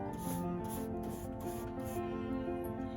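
Clear wax being rubbed onto the painted top of a console table, a continuous soft scrubbing with a cloth in repeated strokes, close and steady.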